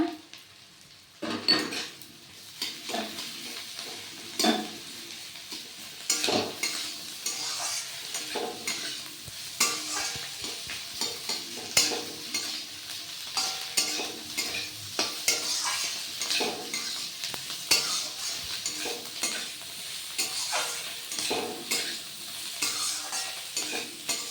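Gobindobhog rice fries with a constant sizzle as a utensil scrapes and knocks against the pan in repeated stirring strokes, close and fairly loud.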